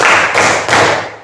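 A class of pupils in a clapping game, clapping in unison three times in quick succession, loud and close, each burst a short sharp crack that decays quickly.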